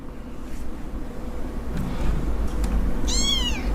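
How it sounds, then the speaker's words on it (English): A cat gives one clear, rising meow near the end, close by, after a few seconds of steady background rumble and wind noise, with no talking. "The cat's super adorable."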